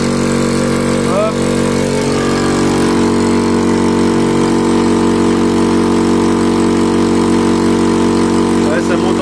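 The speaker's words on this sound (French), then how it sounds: "Parce que là c'est en train de chauffer, donc j'ai pas envie d'abîmer mon compresseur." A high-pressure compressor filling to 100 bar runs loud and steady, a dense mechanical drone with a constant hum that holds throughout, with brief faint sounds near the start and end.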